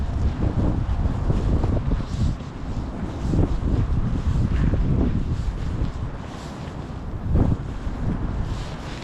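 Strong wind buffets the microphone during heavy snowfall in Canada, a loud, continuous rumbling roar with gusty surges and no talk.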